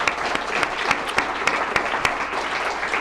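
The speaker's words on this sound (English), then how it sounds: "Big round of applause for them." A studio audience at a startup-focused live show applauds, a steady, full patter of many hands clapping with a few sharper close claps standing out.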